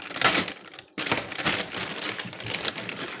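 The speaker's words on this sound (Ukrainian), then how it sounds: "Так, запаковано пакет пакеті брендованому. Зараз ми його відкриємо і оглянемо" Branded plastic packaging around a DAF 95 truck clutch servo part being opened, with close crinkling and crackling plastic and a brief sharp tear partway through.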